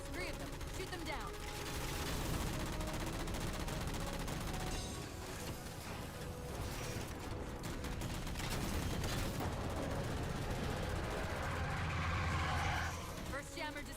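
Dense, continuous gunfire and explosions while shooting down jammers in the Halo 4 video game, loud and busy throughout with game voices talking over the battle.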